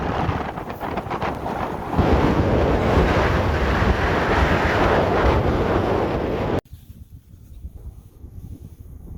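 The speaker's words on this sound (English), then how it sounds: "It's pretty windy." Strong wind gusts roar across the microphone outdoors while fishing and camping in the Scablands of Eastern Washington. A loud, steady buffeting fills the first six seconds, then cuts off abruptly to a quieter, lighter rumble.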